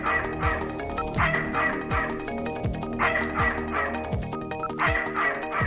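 A dog barks rhythmically in the Snatcher video game, a steady run of short repeated barks under backing music, close and fairly loud.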